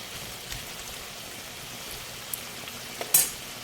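Pork fat frying for pakbet gives a faint, steady sizzle with scattered soft pops and spatters, and one sharper crackle near the end.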